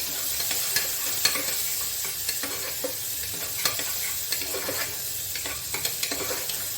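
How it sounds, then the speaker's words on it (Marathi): Chopped onion sautéing for dal fry, with a steady crackling sizzle in a hot pan and a spoon scraping and stirring at intervals, close and fairly loud, with no voices. "आणि कांदा कापलेला. याला थोडं परतून घ्यायचं आहे"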